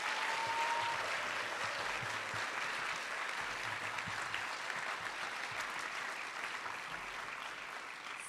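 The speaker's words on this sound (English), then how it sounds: "if we could just get a round of applause for all of the nominees tonight" A large audience at a youth award ceremony applauds the nominees with a sustained, dense wash of clapping that stays loud throughout and eases only slightly toward the end.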